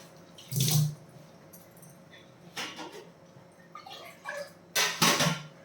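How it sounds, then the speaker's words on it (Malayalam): A cup of water is poured into a simmering Kerala-style roasted-coconut fish curry, making a few short, close splashing pours separated by quiet gaps, with no talking. "ഞാൻ ഒരു കപ്പ് വെള്ളം കൂടെ ചേർക്കുന്നു"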